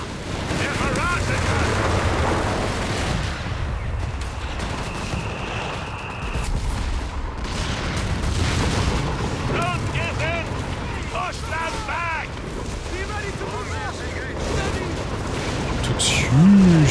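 Rocket artillery from a walking Stuka halftrack in Company of Heroes 3 pounds a battlefield in a long, dense barrage of booming impacts and gunfire, with whistling rockets near the end.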